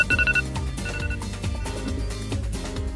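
An iPhone ringtone chimes in a short bright melodic burst near the start, set within a dense, busy mix of music and other sound that carries on throughout.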